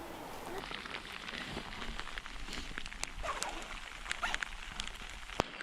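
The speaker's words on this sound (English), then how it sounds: "It started raining now, if you can't tell." Rain falling steadily outdoors during travel in Poland, a continuous close hiss with scattered drop taps throughout, and no speech.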